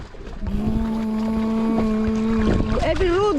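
Outboard motor mounted on a small boat near a beach, running with a steady droning hum that rises and wavers in pitch toward the end, heard close and continuous.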